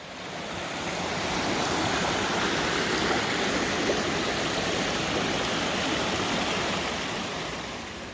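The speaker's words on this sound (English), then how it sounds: "as you can see, we're down by the water" Water flowing steadily by a stream bank outdoors, a dense continuous rush that stays loud and even throughout with no voices.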